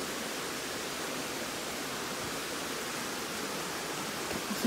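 A waterfall and the Pulco river rushing, an even, dense, unbroken roar that continues steadily, with no voices.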